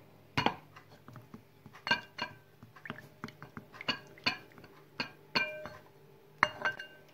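Spoon clinking against a bowl while African oil bean (ugba) is mixed, a steady series of sharp close metallic and ceramic taps in irregular rhythm, with no voices.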